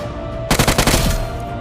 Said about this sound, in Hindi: कितना ज़्यादा शॉट्स होता है यहाँ पे